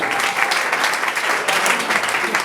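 A comedy festival crowd applauds steadily, dense clapping from many hands filling the room at full volume throughout, with no voices above it.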